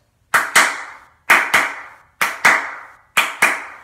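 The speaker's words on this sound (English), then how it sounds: "I was going to do the clap test." Four sets of sharp double hand claps in an untreated studio room, each pair ringing out with a clear, decaying echo before the next.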